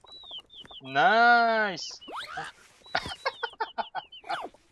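A chicken in the survival video game Tree of Life: Oddria clucks, then gives a short drawn-out squawk, followed by a quick series of clucks, with someone speaking briefly over the sounds.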